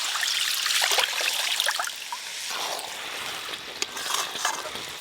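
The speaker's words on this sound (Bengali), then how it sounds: "এবার জলটা দিয়ে দেবো।" Water is poured into a pot of mutton that has been browning in oil, bringing a loud close hiss and sizzle with trickling that gradually settles into a softer bubbling simmer, with no speech.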